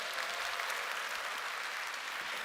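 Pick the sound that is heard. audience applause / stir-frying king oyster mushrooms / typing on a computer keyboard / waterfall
audience applause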